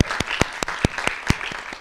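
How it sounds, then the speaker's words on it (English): Retirement celebration at a launch event, where an audience claps for a short burst, with sharp, distinct handclaps at an uneven rhythm that sound close and fairly loud. "another round of applause for Rosemary"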